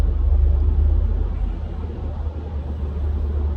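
Steady low rumble inside a moving car, with a constant engine and road drone and no other distinct events.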